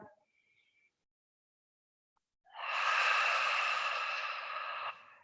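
A single long, deep breath taken during a seated chair yoga session, a soft airy rush lasting about two and a half seconds after a near-silent pause, close and steady before cutting off.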